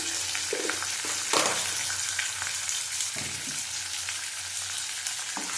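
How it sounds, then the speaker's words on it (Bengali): Whole garam masala and sugar fry in hot oil for chicken malai curry, a constant close sizzle broken by a few clinks and scrapes of stirring, with no one speaking. "ভেজে নেবো ভালো করে"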